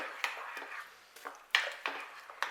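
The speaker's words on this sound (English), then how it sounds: "now we add our apple and our sultanas. And we give that a good mix through." Stirring apple and sultanas into a curried lamb casserole in a pot, with soft scraping and clinking of a utensil against the pot in several short bursts, close and fairly quiet.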